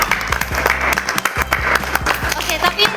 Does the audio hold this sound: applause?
yes